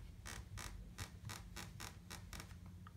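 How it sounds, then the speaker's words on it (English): A hotel room floor creaks underfoot at a resort, about nine evenly spaced groaning creaks in a steady stepping rhythm, faint and close in an otherwise quiet room. "Hear the creaking?"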